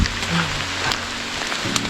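Heavy rain at Kamikochi makes a dense, steady hiss of drops pattering nearby on surfaces, with a few sharper taps and a low rumble underneath.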